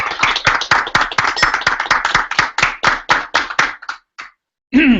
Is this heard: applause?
yes